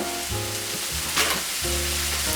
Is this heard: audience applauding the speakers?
no